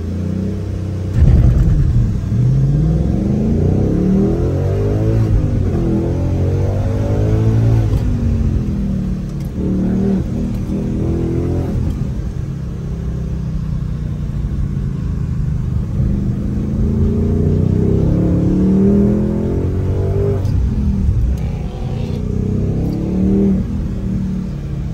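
A 2024 Ford Mustang Dark Horse launching with launch control on a track, its engine rumbling loud and close and revving steadily upward over about twenty-five seconds with rising and falling pitch sweeps as it pulls through gears.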